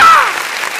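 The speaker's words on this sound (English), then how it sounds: "Supposed to do the clapping after we say it." A studio audience at a radio show bursts into a short clap that fades quickly, near and fairly loud, with no talk over it.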